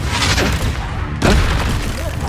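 Confringo spell explosions from Hogwarts Legacy burst out as two sharp, booming blasts, one near the start and a louder one midway, over a dense layer of combat noise.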